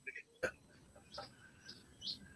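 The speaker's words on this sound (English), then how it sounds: "My birds are getting all out of whack over here" Wild birds chirp outside in short, sparse high tweets and calls scattered across a quiet background, faint and somewhat distant, with one sharper chirp near the start.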